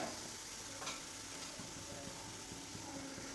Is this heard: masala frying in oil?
yes